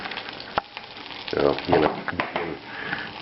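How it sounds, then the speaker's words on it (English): Gnocchi frying in butter with sage, a soft, steady sizzle broken by sharp stirring clatters, with a brief voice murmuring over it. "Just fry them in a little butter, add some parmesan, some sage."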